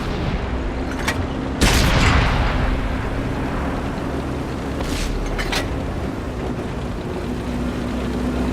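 Tank cannon shots in World of Tanks: one heavy, booming blast early on and a sharper pair of cracks midway, over a constant low rumble of engines and battlefield noise.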